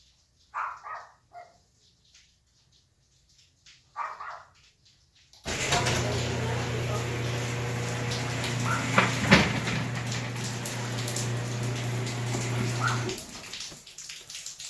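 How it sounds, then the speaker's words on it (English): A Nexx smart garage door opener drives a garage door open: after a few short knocks and quiet, a loud steady motor hum with rattling starts and runs for about eight seconds before stopping. "ask Nexx Garage to open the garage door."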